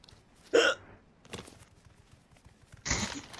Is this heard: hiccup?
yes